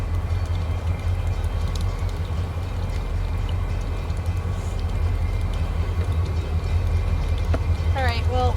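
A train rumbles past at a beehive inspection site, a steady low roar with rattling wagons throughout and a brief horn-like whine near the end, loud and continuous.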